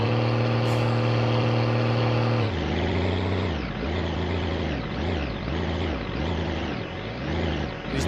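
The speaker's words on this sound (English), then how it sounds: "These damn air brakes." In the video game My Winter Car, a heavy truck engine drones, then a sharp hiss of air brakes releases and the engine settles into a rising and falling, pulsing rumble.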